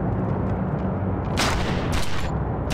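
Gunfire in the video game XIII: a few sharp, loud shots burst out over a dense, rumbling background, with no one speaking.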